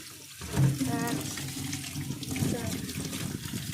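Tap water runs and splashes nearby while fish are washed, a steady rushing stream with people talking over it throughout.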